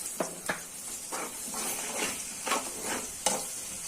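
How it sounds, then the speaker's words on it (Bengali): Spice masala with cumin powder, salt and garlic paste frying in oil for taki fish, with a soft sizzle broken by about six distinct stirring scrapes at irregular intervals, close and fairly quiet. "মশলাটা কষিয়ে নেব।"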